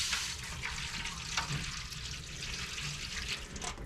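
Water is poured into the drip pan of a Big Green Egg grill, a steady close splashing trickle that lasts the whole time, with no voices.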